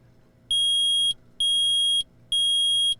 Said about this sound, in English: I permit the use of the metal detector.